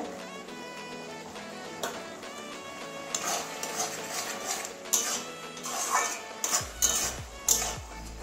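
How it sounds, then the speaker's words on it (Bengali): A spoon scrapes and clinks in a pan while grated garlic is mixed into a curry of greens and eggplant, several short metallic knocks toward the end over a soft musical background. "একটু মিশিয়ে দেবো ভালো করে।"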